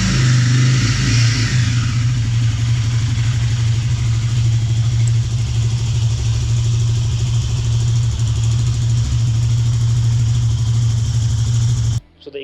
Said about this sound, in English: the exhaust sound of this bike is become a little bit heavier